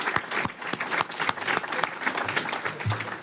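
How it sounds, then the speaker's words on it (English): A forum audience applauds the moderator at the close of a Maryland Sixth Congressional District candidate event, a steady patter of many hands clapping at moderate distance for the full stretch. "how about a round of applause for our moderator"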